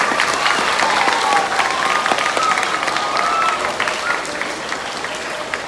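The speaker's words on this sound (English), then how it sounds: "We give her a big round of applause" A ceremony audience gives a sustained round of applause, a dense steady wash of many hands clapping that fades slightly toward the end, with no talk over it.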